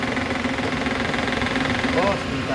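A 2017 Suzuki Karimun Wagon R 1.0 GL manual idles steadily up close with a loose filter adding a faint rattling vibration, under someone talking.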